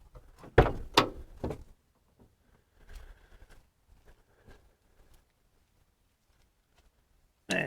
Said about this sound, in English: Let me get the doors open.